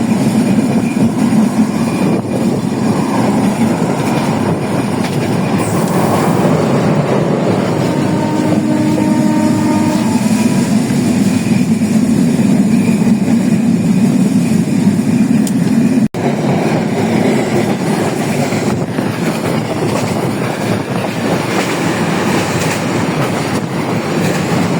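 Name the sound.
passenger train running at high speed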